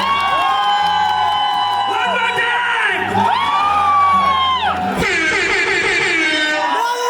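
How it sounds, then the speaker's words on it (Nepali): Crowd at a live music concert in New York cheering, whooping and shouting loudly over sustained music, with a person speaking into a microphone. "एकचोटि जोरदार ताली। Let's make a big noise."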